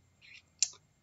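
A single mouse click while working in Canva on a computer, one short sharp tick near the middle, quiet and alone, preceded by a faint soft rustle.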